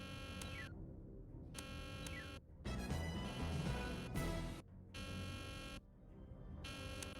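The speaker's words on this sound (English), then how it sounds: "there's an alarm going off" An alarm blares in the Nancy Drew game The Deadly Device, a harsh pulsing buzzer repeating in loud on-off bursts with a denser noisy stretch in the middle.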